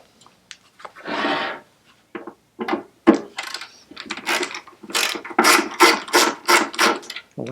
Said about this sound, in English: Let's get our screwdriver, see if we can get them off